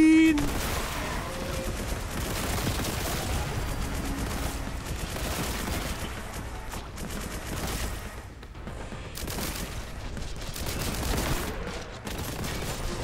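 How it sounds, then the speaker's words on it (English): Heavy Kraken bolt gun fire in Warhammer: Boltgun, a loud, continuous barrage of rapid booming shots with dense explosive impacts running the whole stretch with no pause. "Oh, Kraken bolt gun"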